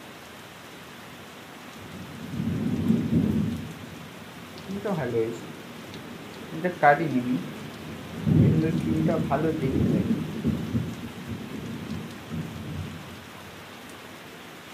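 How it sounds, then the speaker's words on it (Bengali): Heavy rain pours steadily over a house with low rumbling thunder rolls, while a person talks nearby over the downpour. "খুব জোরে বৃষ্টি শুরু হয়ে গেছে, মেঘ ডাকছে কত জোরে জোরে"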